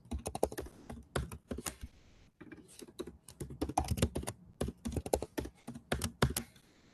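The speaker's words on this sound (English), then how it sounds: "So I'm just going to type in our RGBA strings." Rapid typing on a computer keyboard, close and clear, in quick bursts of key clicks with a brief pause midway before the tapping resumes.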